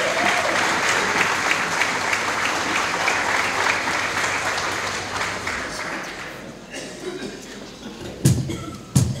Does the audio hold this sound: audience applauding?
yes